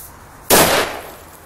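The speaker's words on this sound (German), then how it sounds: "Weiter geht's mit dem Superböller 2" A single sharp, loud bang from a Funke Superböller 2 firecracker goes off, its blast ringing briefly before fading into quiet.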